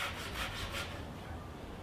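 A Western-style hand saw cuts through wood with steady back-and-forth strokes, each pass a rasping scrape, close and moderately loud with no talking.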